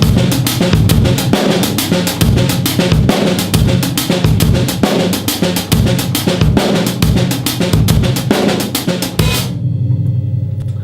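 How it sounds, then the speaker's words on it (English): A full drum kit plays a steady groove with a busy bass drum pattern added underneath, loud and close, with crisp cymbals, before the kit stops abruptly near the end and the last hits ring out. "if I was to add that bass drum pattern to the groove I just played, it would sound like this"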